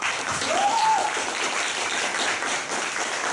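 Steady, dense applause from a meetup audience in Taichung welcomes the next speaker to the microphone for a self-introduction, sustained and fairly loud from start to finish with no talking.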